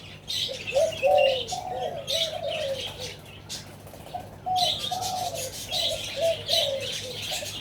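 A large spotted dove repeats low, deep, mellow coos in short phrases, each a few notes, recurring steadily over a bed of chirping and tweeting from other birds nearby, at a Bangkok bird market.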